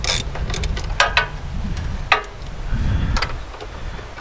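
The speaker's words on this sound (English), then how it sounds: "Little ratchets coming in clutch" A small ratchet wrench clicks close by in short uneven bursts, with brief pauses between the strokes and no talking.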